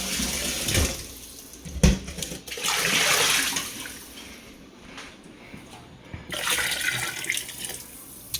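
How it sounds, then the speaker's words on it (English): Water pours from a tap into a stew pot for a hambone stew, a rushing splash that surges and eases in a few bursts over several seconds. "But I'm gonna put a little bit of water in it."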